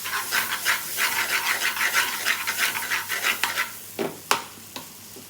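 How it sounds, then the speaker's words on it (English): Spices frying in hot oil for a Bombay aloo, a close, loud crackling sizzle with rhythmic stirring scrapes, ending in a few sharp clacks as the sizzle dies down. "Obviously I put the spices in the oil just to liven it up"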